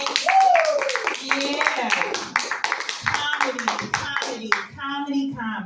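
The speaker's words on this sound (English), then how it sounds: "Clap your hands, make some noise." An audience in a comedy studio claps in quick bursts, the hand claps mixed under lively shouting and cheering voices.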